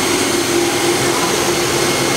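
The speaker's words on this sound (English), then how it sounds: "Currently running the machine at about 2800 RPM." A Hitachi Seiki HT-20SIII CNC turning center runs with its spindle at about 2800 RPM, giving a steady, loud machine whine and whir with a constant tone and no pauses.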